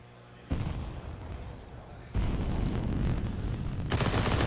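MP9 submachine gun fire in a Counter-Strike esports match: dense, sustained rapid shooting that steps up louder partway through and continues to the end, with no commentary heard.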